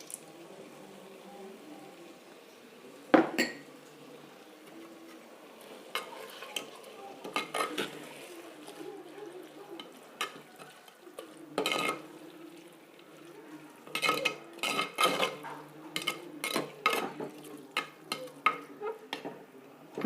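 Curd stirred into a mixture in a pan makes soft, quiet scraping, broken by clusters of louder clinks and scrapes of a spoon against metal, irregular and close, with a faint sizzle underneath.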